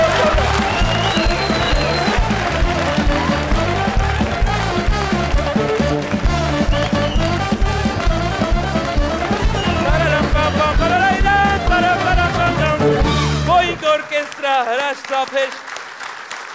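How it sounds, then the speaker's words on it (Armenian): Audience applause at a comedy show, dense sustained clapping with music running under it for most of the stretch, then stopping abruptly, followed by someone speaking. "հրաշք ծափեր է ձեզ տղաներ"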